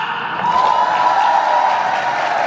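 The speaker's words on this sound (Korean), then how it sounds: "우리 신부 측 하객분들도 박수 한번 발사!" Wedding guests on the bride's side applaud together, a dense steady clapping that rises quickly and holds through the moment.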